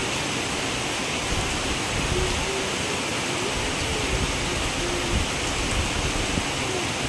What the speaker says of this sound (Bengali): দেখো আমার মতো বৃষ্টিতে কারা কারা ভেজো বলো তো